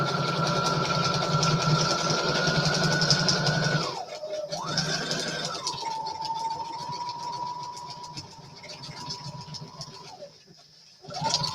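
A sewing machine stitches through journal pages, its motor whining up and down in pitch. It runs in a few bursts with short pauses, then stops near the end, close and fairly loud.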